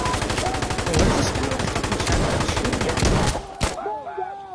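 Sustained automatic gunfire in the video game Insurgency: Sandstorm: loud, rapid, evenly spaced shots rattling for several seconds before cutting off, followed by a few scattered sounds.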